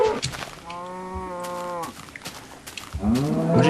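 A single drawn-out cow moo from a video game, clear and fairly close, set amid game ambience and followed by other short noises.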